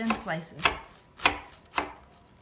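A knife cuts through rolled kale leaves on a board in four distinct, evenly spaced chops, crisp and close, with no voices.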